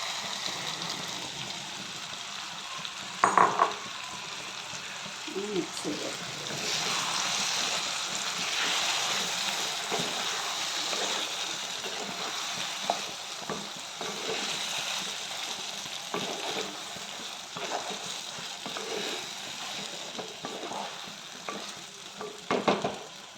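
A prawn and pumpkin curry with coconut paste is stirred in a pan over steady sizzling, with scraping spoon strokes and occasional clinks throughout, close and moderately loud with no talking.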